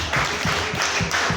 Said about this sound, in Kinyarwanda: Yego, dukomere Imana amashyi.